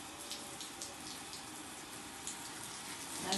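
A steady hiss of water sprays from a hose while a horse is being washed outdoors, sounding continuous and fairly close with slight fluctuations and no talking.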